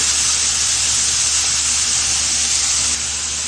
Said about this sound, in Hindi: तेल लगाकर हम अपनी स्टिक उठाएंगे और इसके अंदर डाल देंगे और इसको हल्की आंच पे पकाएंगे।